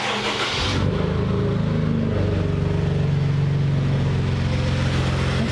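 Ford F150 EcoBoost V6 engine, rebuilt from a wrecked salvage truck, running after a turbo-side leak was tightened: it catches about a second in, then holds a loud, steady, even drone close by with no talk.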